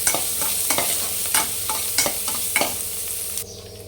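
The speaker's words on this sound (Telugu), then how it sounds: "ఇలా ఆలు ముక్కలను కూడా వేయించుకోవాలి." Potato pieces fry in hot oil in a pan for carrot biryani, a steady close sizzle broken by regular scraping strokes of a spoon stirring them, with no one talking.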